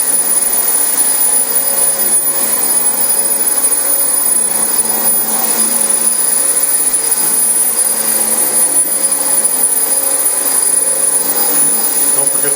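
Dyson DC25 upright vacuum cleaner running over a filthy carpet, a loud, steady motor whine with a high-pitched tone and airy suction rush, continuous and close.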